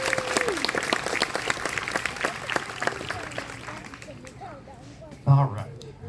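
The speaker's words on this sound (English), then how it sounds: "Let's give them a round of applause." Audience applause at a concert honoring the band's seniors and four-year members: dense, sustained clapping that thins out and fades over the last couple of seconds, with a brief louder voice near the end.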